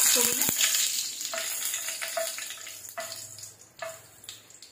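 Dry red chillies crackle and sizzle in hot mustard oil, a steady close frying hiss with a few sharp pops and stirring clicks; no one speaks.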